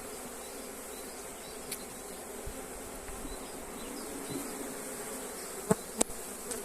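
Honey bees hum steadily over a hive frame during a colony inspection, a continuous close drone with a few brief clicks and knocks near the end.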